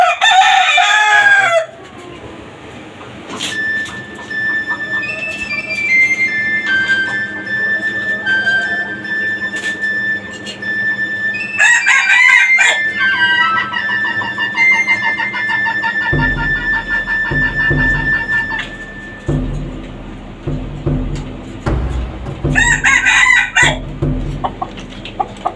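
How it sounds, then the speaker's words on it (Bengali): A breeding rooster in a cage on a rooftop in Dhaka crows loudly and close by, with repeated drawn-out crows and clucking among other chickens in a farm setting. "মোরগ।"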